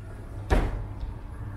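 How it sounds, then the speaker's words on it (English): A room door at O'Reilly's Rainforest Retreat in Lamington National Park opens with a single short thud and click, close to the microphone, followed by a quiet room. "Just open this door here."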